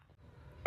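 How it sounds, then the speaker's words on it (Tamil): One harsh, rough cough bursts out abruptly at the very end after near silence, short and close. "என்னடா முரட்டு இருமலா இருக்கும் போலியே."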